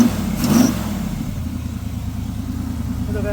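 A 1979 Pontiac Trans Am yard find runs with its engine idling, a steady mid-range rumble with a brief rev near the start, close and continuous.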